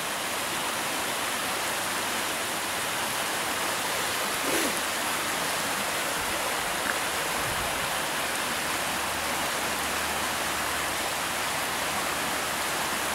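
Steady broadband rush of King's Creek flowing a little high, a continuous even wash of water heard close and alone with no talking.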